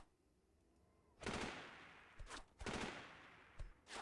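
Gunfire in the video game Delta Force 2: after a quiet start, several bursts of shooting crack out, loud and close, separated by short gaps, with sharp single shots near the end.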